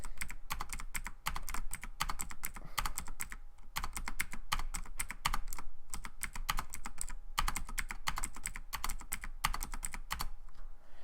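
Rapid typing on a computer keyboard, close and crisp, with bursts of key clicks separated by brief pauses and no voices.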